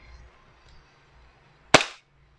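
A Novritsch SSP-1 airsoft sniper rifle fires a single sharp, loud shot after a quiet lead-in, its crack decaying quickly into silence.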